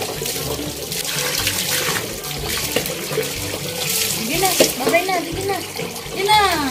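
Running water splashes steadily while a dog is bathed, with people talking over the constant tap-like flow.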